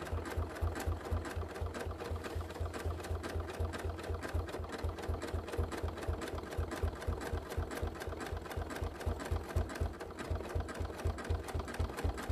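Sewing machine stitching down couched thread, a fast steady mechanical rattle of needle strokes running evenly at close range throughout.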